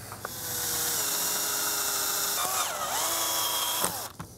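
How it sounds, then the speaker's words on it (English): A small power drill bores a hole through an old air compressor knob, whining steadily at close range and shifting pitch as the bit bites, then stopping abruptly. "So I need to drill a hole through this knob."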